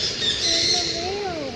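A parrot squawks while chewing on a wheel. A short, harsh, close call repeats with a wavering pitch, and a voice can be heard faintly in the background.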